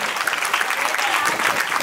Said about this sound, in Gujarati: ઓહો હો, જોરદાર તાળીઓ થઈ ગઈ, જોરદાર તાળીઓ